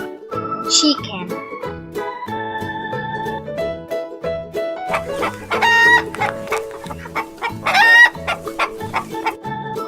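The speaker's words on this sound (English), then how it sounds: "Chicken." Chickens clucking with a rooster crowing twice in bright, close, rising calls over a light backing of music, a farmyard chorus of short clucks between the louder crows.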